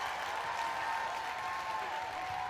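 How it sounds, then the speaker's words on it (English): A crowd keeps up steady, dense applause and cheering at a New Zealand v Gibraltar netball match after a goal, a continuous wash of clapping throughout with no voices standing out. "Obviously, crowd are loving it."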